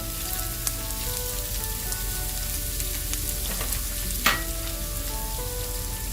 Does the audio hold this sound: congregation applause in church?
no